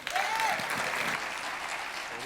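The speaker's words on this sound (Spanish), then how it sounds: "Un aplauso, por favor." Church congregation clapping after a testimony, a burst of applause from a moderately sized crowd that stays even and full for about two seconds. A short voice is heard at the start.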